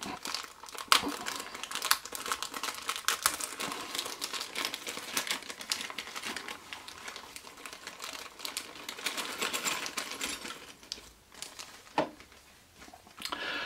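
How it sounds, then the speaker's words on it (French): A plastic bag of parts for an MVI 1/43 fire-brigade VSAB model kit being unwrapped, producing continuous close crinkling and rustling of plastic, with brief louder crackles and tears, alone without talk. "Alors, le déballage du sachet."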